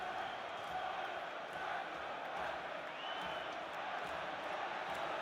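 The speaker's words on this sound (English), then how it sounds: "cheering and applauding" Away fans at a Chelsea versus Aston Villa football match keep up a steady, distant roar of cheering and applause late in the game, a continuous crowd wash with no distinct peaks.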